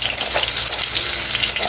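Garlic sizzles and fries in a hot pan with a steady, close crackle and no voices, cooked after onion for a vegetable dish.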